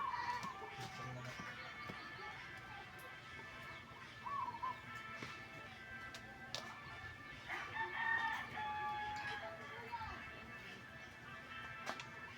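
Rooster crowing in a rural Philippine province, heard at a moderate distance over faint background ambience, with a couple of crows and some clucking.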